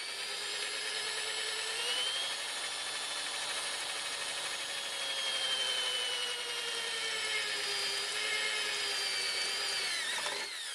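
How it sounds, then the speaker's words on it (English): Cobalt drill bits boring holes into the A-pillar of a 2006 Mitsubishi L200 diesel pickup, a steady high-pitched whine held close and continuous for about ten seconds, then stopping abruptly. "they're drilling pretty easy, aren't they?"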